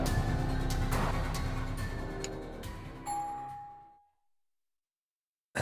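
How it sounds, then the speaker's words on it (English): An elevator chime in the Tsukihime visual novel, a few clear ringing tones over a soft ambient bed, then a sustained bright ding that rings out and fades into silence before a brief final sound. "The gentle chimes of the elevator shatter the silence."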